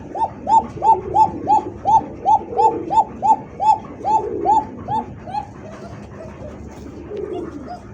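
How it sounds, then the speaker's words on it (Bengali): Coca pigeons cooing close by, a rapid regular series of about a dozen rolling coos that then slows and fades into softer murmurs. "দর্শক দেখতে পাচ্ছেন আরো এক জোড়া কোকা কবুতর।"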